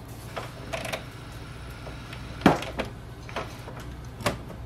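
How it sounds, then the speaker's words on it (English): An HP Envy 6555e printer's front door is pushed down and shut, giving a few light plastic clicks and one sharper close, quiet against a faint steady room hum. "Push this door down and close it gently."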